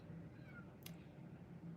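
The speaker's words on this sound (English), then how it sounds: "My other cat now wants in. Just ignore the crying." A house cat meows once to be let in, a faint, brief cry set against a low indoor hum with no talking.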